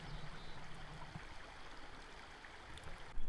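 Ireland Creek in Yosemite's Cathedral Range, creek water rushing and gurgling steadily and close by, with no talk over the flow.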